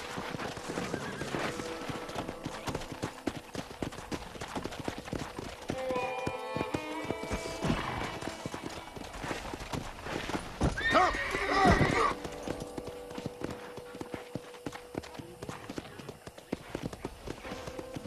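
A horse in the Red Dead Redemption video game gallops with rhythmic clip-clop hoofbeats, neighing and whinnying loudly partway through, close and clear over a steady background.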